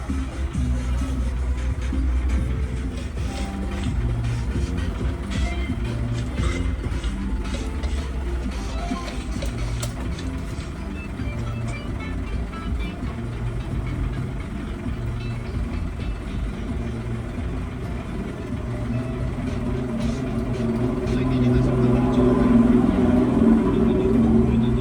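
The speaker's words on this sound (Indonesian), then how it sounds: "Terus kalau setiap ada truk gede-gede lewat itu lihat goyang-goyang banget." Big trucks pass on the toll road at the Parung Kuda exit, a continuous low, heavy rumble of traffic that swells louder near the end as a vehicle draws close.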